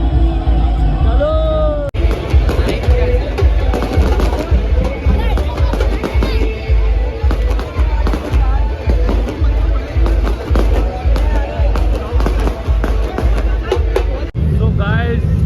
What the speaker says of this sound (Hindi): अरे ये वाला स्काई शॉट फोड़ देना, बैक टू बैक लगेगा भाई